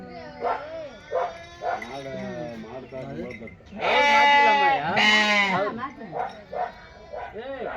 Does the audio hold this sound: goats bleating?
yes